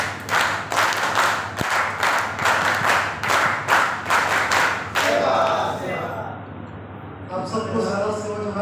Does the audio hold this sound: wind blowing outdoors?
no